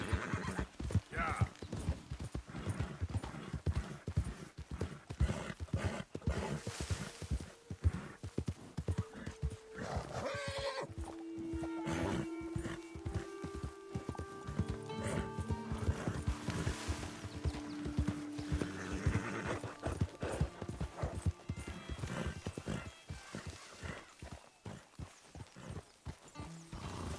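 Horse hooves clip-clop steadily with repeated neighs and whinnies in the Red Dead Redemption 2 video game, set around a camp, while people talk over the game sounds.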